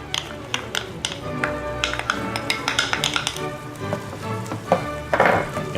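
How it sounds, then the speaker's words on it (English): Onions, minced garlic and mushrooms frying in a pan, a soft sizzle under a spoon's clinks and scrapes against the pan, with someone talking over it. "our onions and garlic have been cooking for about 3 minutes now, along with our mushrooms"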